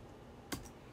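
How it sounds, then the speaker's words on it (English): A single sharp keystroke on a computer keyboard while typing a search, one crisp click with a faint second tap after it against a quiet room background. "I'm typing his name in search here."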